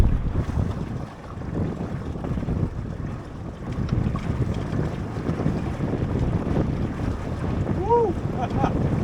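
Dinghy sailing on Lake Ullswater on a brisk reach, with steady wind buffeting the microphone, water rushing along the hull and a brief faint whistle-like sound near the end.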